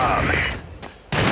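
Gunfire in the mobile shooter game Critical Strike CS: loud, close bursts of rapid shots that drop away into a brief lull before another burst cuts in.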